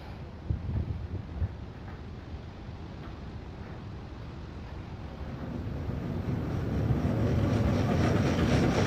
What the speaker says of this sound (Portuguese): É um trem, é isso? É um trem.